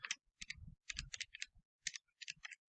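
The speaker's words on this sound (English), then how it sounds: "I'm literally typing them in now." Keys tapped on a calculator to enter numbers, a quick irregular series of light plastic clicks, close and quiet, coming in short bursts with brief pauses between them.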